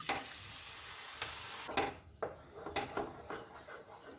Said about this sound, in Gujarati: હવે આ બધું તેલ સાથે મિક્સ કરી દેવું અને ધીમો તાપ રાખી અને આપણી જે આ પેસ્ટ તૈયાર કરેલી હતી એમાં ઉમેરવી।